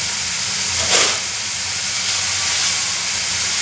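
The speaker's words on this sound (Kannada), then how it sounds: "4 ಈರುಳ್ಳಿ ಹಾಕ್ತಿದ್ದೀನಿ ನಾನು." Chopped onions, about a quarter kilogram, hit hot oil in a pan for an egg stir-fry, giving a steady loud hiss with a brief surge near the start, no voices.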